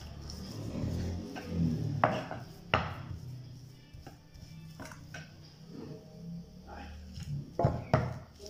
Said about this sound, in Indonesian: Setelah tempenya matang, lalu aku akan ulek.